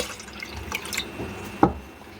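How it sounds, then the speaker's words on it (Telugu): Water is poured into a pot of milk: a short gurgling trickle, some clinks, then a single splashing gush near the end. "దీనికి 1 గ్లాసు వాటర్ కూడా యాడ్ చేస్తున్నాను"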